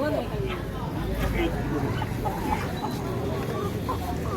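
Chickens cluck among a crowd at a weekly Sunday chicken market in a village bazaar, the fowl sounds mixed into busy babble as people talk and bargain close by.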